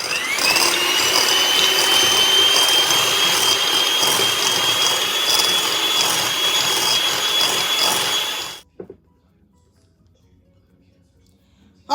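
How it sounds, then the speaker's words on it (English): An electric mixer whips room-temperature whipped cream cheese spread at medium speed for pie filling, a steady whine whose pitch climbs slightly as it gets going. It runs loud and close for about eight seconds before stopping sharply. "we're going to mix this on medium speed until it's fluffy"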